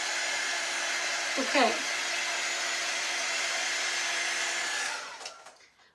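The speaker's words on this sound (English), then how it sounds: "I'm just drying in between because I don't want my transfer to smudge this" A hair dryer roars steadily while drying a craft sign transfer, a close, even blowing hiss that cuts off near the end; a voice speaks briefly under it partway through.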